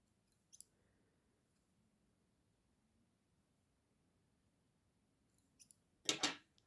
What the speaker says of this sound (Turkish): Şimdi ipimi buradan kesiyorum